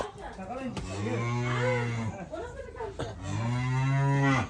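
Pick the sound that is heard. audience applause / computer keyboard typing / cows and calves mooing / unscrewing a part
cows and calves mooing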